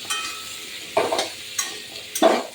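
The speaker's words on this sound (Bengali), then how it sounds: "আমি কচু দিয়ে দিচ্ছি তেলের ভিতরে, একটু ভেজে নেবো" Taro pieces fry in oil and are stirred with a utensil, producing a low sizzle broken by four crisp scraping strokes at uneven intervals, close and fairly loud, with nobody speaking.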